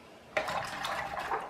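Brief splash and trickle of water being fetched and stirred during a watercolor painting texture demonstration, a soft wet swishing heard alone.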